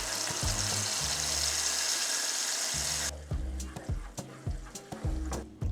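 Sauce poured into a hot pan of Mexican chicken adobo over medium-low heat gives a broad sizzle for about three seconds, then settles into quieter bubbling with clinks and scrapes of stirring.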